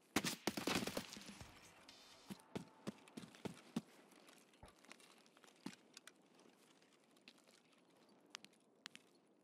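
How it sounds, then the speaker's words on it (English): Shotgun fire in Escape From Tarkov: a loud cluster of blasts at first, then a string of separate sharp shots that thin out and fade into sparse, faint reports in a quiet space. "Shotguns."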